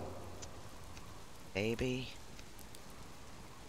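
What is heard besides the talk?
rain falling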